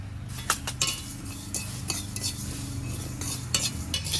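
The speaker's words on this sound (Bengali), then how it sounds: "এখন আচারের মশলা আমি ভেজে নিচ্ছি" Coriander, fennel and fenugreek seeds dry-roast in a pan for mango pickle masala, with light scraping and clinking stirs of a spoon against the metal over a faint sizzle, close and fairly quiet, with no talking.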